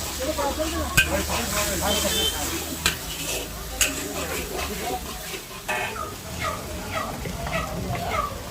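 Schezwan chutney sizzles in a pan after soy sauce goes in, a constant frying hiss broken by sharp clinks and scrapes of a spoon stirring against metal, with people talking over it.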